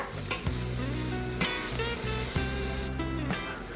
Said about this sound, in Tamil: இஞ்சி பூண்டு விழுதோடைய பச்சை வாசனை போற அளவுக்கு நம்ம நல்லா வதக்கி எடுத்துக்கணும்